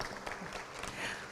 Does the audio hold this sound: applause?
yes